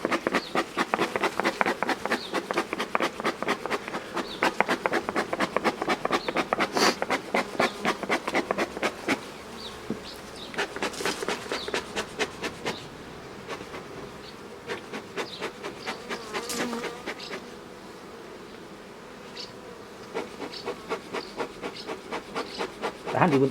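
Honeybees buzz steadily around an open hive during an inspection, a dense close swarm drone with individual bees passing near, continuous throughout with brief louder swells.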